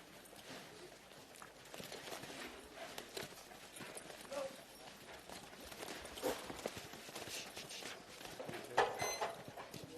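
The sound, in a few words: horse hooves clip-clopping at campdraft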